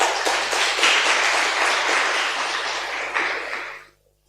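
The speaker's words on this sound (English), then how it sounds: "Another round of applause." An audience at an International Missing Children's Day event applauds, a dense steady clatter of many hands clapping together for a few seconds before it fades out abruptly.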